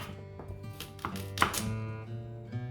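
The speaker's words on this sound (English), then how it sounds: "I'll move on to the carrots now. As before, just chop off the ends, then chop roughly." A knife chops carrots on a cutting board in a run of several crisp, irregular thunks, fairly quiet and close, with no talking.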